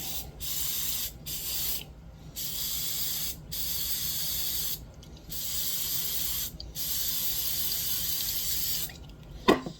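Hairspray hisses onto foam model bushes for a slot car track in about six short, evenly spaced bursts separated by brief pauses. The bursts are close and steady, and no one speaks.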